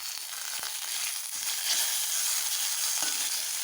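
Manathakkali (black nightshade) berries sautéing in a pan give a steady, bright sizzle with faint crackles and occasional soft stirring ticks, and no voices.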